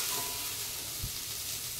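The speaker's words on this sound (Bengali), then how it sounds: "ঘ্যাটকোল পাতাটা ভেজে নিচ্ছি, একটু ভেজেই বাটতে হবে।" Chopped taro (ghetkol) leaves frying in hot oil give a soft steady sizzle with one brief stir bump, quiet and alone.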